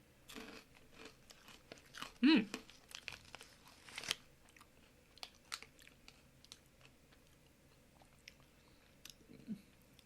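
Crunchy Japanese strawberry-flavored snack being chewed close up, with sharp crisp bites and softer crunches scattered through a quiet background.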